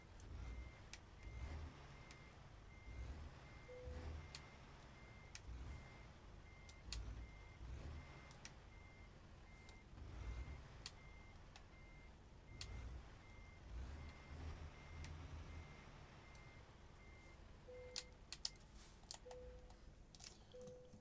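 A truck's reversing alarm beeps in a steady, evenly spaced pulse within American Truck Simulator, faint over a low engine rumble and scattered clicks, with a second beeping tone joining near the end.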